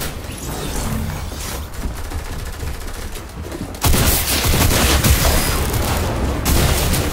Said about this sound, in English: he has the minigun. And he uses it to spam